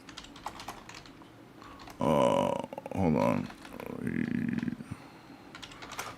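Typing on a computer keyboard, a rapid run of close clicks and taps, broken by bursts of louder sound, with a voice speaking briefly.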